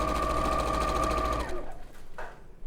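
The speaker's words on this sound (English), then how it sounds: "I've got a normal sewing foot on, and I'm just going to sew down those lines I've made." Sewing machine with a normal sewing foot running steadily to stitch quilt seams, a close, even motor whir with rapid needle rhythm that stops partway, followed by a few faint handling clicks.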